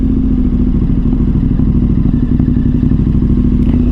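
A KTM 1290 Super Adventure R motorcycle engine runs loud and close with a steady low rumble and faint clatter, recorded while riding at night in Vilnius.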